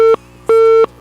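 Telephone tone on a Philippine AM radio broadcast: three loud, evenly spaced beeps, each about a third of a second long, separated by short gaps, with no voices over them.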